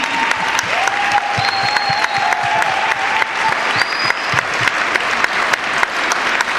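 Steady, full applause from an audience at a public education forum, a dense wash of clapping that holds throughout, with a few faint whistles and a thin tone rising over it.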